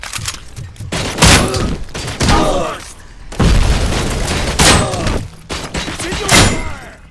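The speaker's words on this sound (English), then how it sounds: "Throwing explosives!" Thrown explosives detonate in the RoboCop: Rogue City video game: several loud, sharp booms burst at irregular intervals, each decaying into rumble and crackle, with quieter gaps of gunfire and debris between them.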